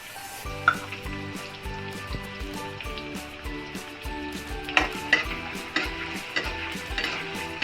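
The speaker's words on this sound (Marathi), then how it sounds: "आता आहे ना कांदा टाकायचा आहे" Onion tossed into hot oil for ambadi bhaji crackles into a steady sizzle, with stirring scrapes and clinks of a utensil against the pan, moderately quiet and close.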